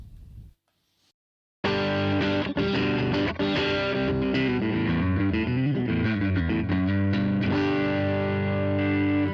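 Squier Stratocaster electric guitar played on the middle pickup alone, a distorted, effects-laden run of chords and notes that starts after a brief quiet gap and then rings loud and continuous to the end.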